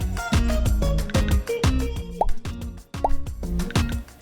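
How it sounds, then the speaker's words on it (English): Vanilla and almond extracts go into a mixing bowl of batter as a series of close, bright liquid plops and drips, some with rising pitch, over a steady background. "Now we add in the extracts,"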